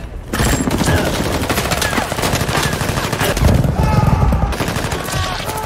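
Rapid automatic gunfire fills a shootout between cartel members and escort troops in an action film, loud, dense bursts running continuously with a heavier volley near the end.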